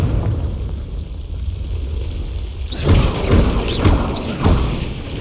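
Confringo blast spell impacts in Hogwarts Legacy, a run of four muffled thuds with bright crackling bursts at regular intervals over a steady ambient rumble.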